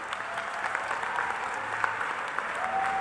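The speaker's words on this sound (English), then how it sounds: "let's have one more round of applause" A room full of people at a SkillsUSA opening ceremony applauds steadily, a dense patter of clapping at moderate volume that holds even throughout.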